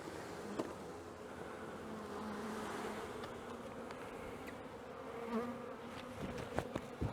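Dense, steady buzzing of a honeybee swarm close by as the bees are gathered off a fence into a dustpan, a continuous drone with small bumps and scrapes, no voices.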